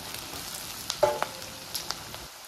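Dried prawns frying in a pan, a soft steady sizzle with a few light stirring taps and scrapes, close and fairly quiet.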